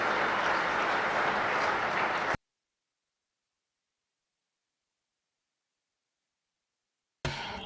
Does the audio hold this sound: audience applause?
yes